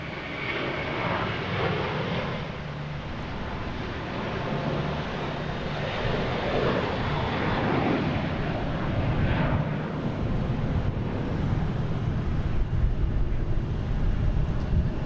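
A JetBlue airliner at Boston Logan International Airport, a loud, steady jet engine roar with a broad rushing wash that holds without a break, close by and alone.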